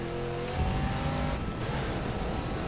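Classic car with a gas engine in The Crew 2, a steady engine drone with a brief swell as it revs, heard loud and alone for a few seconds with no talk.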